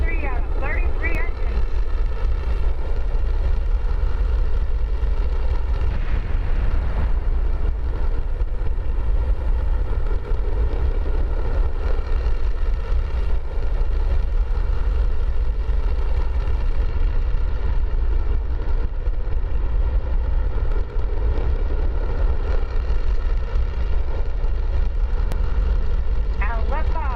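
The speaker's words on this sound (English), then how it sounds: "Raptor ignition. We have 33 out of 33 engines." Starship Super Heavy booster with 33 Raptor engines igniting at launch, a dense, continuous roaring rumble that stays loud and steady throughout, with a voice speaking over it.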